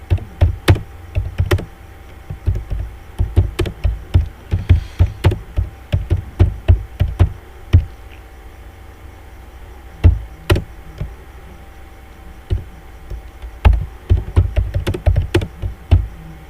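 Rapid bursts of computer keyboard typing as an HTML paragraph is entered, close and clear with irregular clusters of key taps and short pauses, no talking.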